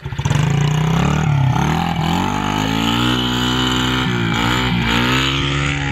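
A small SSR dirt bike engine revs hard and close, its pitch dipping and climbing again as it shifts through gears, loud and continuous with no voices over it.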